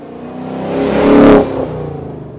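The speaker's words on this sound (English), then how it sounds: "I'm actually quite surprised at the volume Ford has put into this exhaust." A Ford Mustang GT with its stock exhaust revs up, the exhaust growling louder and rising in pitch, then drops off sharply and settles into a rough idle.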